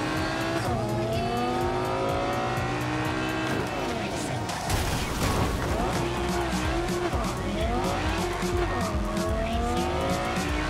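A fast car in Cyberpunk 2077 races with a revving, shifting engine and repeated tire squeals, loud and close throughout, with a voice talking over it.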